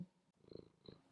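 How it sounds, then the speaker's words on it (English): A house cat purrs up close, soft rhythmic pulses rising and falling quietly after a brief pause, with no talking. "She says hello, and she's purring."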